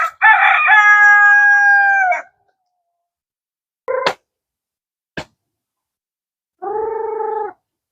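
A rooster crows loudly once, followed by a couple of sharp clicks and a shorter, lower crowing call a few seconds later.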